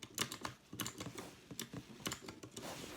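Quick, uneven clicks and taps of an RGB computer keyboard being typed on at a close distance, with no talking.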